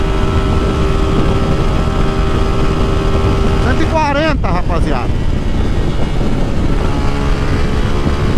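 A 150cc motorcycle with its catalytic converter removed revs and accelerates loudly and close by, with a steady engine drone and a rising surge in the middle, while someone talks over it.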